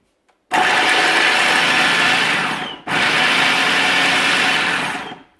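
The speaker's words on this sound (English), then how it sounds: "then put it in your processor" A food processor whirs loudly as it chops a full bowl of cauliflower into rice-sized bits, running in two steady bursts separated by a brief pause, close and without talk.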